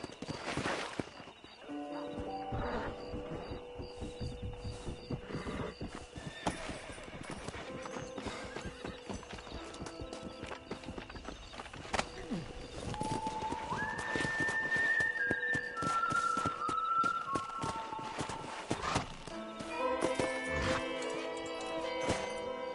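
In a video game, horse hooves clip-clop steadily and close throughout, with a loud whinny early on and whistle-like tones and scattered clatter mixed in.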